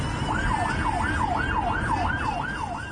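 An ambulance siren wails close by on a road, its tone rising and falling in a steady repeating sweep over the hum of traffic and an engine, loud and continuous for the whole stretch.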